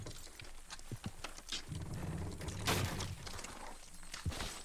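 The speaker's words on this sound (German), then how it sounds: "Horses will pull it clean down." Horses pulling a load in the video game Red Dead Redemption 2, heard as scattered hoof clops, scraping and a brief crashing burst of debris at moderate loudness, with no speech.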